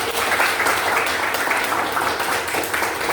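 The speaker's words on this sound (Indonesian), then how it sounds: "Sekali lagi kasih tepuk tangannya" Applause from an audience at a school teaching-practice event, a steady, dense round of many hands clapping throughout, filling the room at even loudness without pause.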